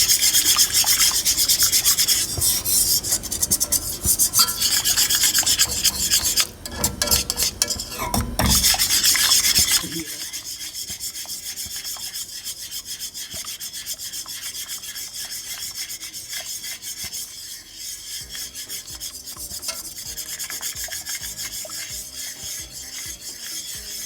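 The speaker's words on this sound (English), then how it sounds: "I'm just going to sift it." A kitchen sifter working flour for a vegan squash risotto gives a close, continuous scratchy rasp, loud and busy at first and then softer and finer as it continues, with no talk.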